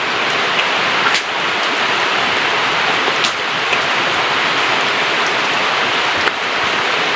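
Steady, dense rain pours down loudly and evenly, a continuous hiss with occasional individual drop impacts standing out, and no voices over it.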